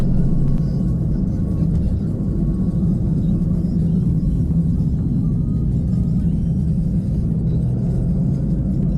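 A 2018 Mercedes CLA 200 engine drones as the car climbs hills, a steady low rumble with road noise that holds evenly throughout and never swells in pitch, heard from inside the cabin with no talking.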